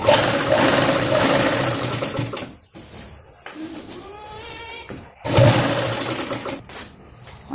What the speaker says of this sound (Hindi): इस तरीके से सिलाई हम नीचे तक लगा देंगे